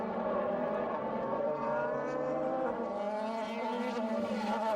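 DTM touring race cars from Mercedes and Audi howl around the Nürburgring sprint circuit in 2003, a continuous loud engine roar with shifting pitch as cars battle closely, tires faintly squealing.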